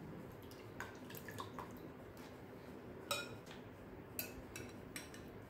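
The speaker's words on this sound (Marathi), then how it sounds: "त्याच्यामधलं पाणी आपल्याला निथळून घ्यायचं आहे" Soaked chana dal drains in a kitchen, with faint water trickling and dripping and a few light clinks of a metal vessel, close and quiet.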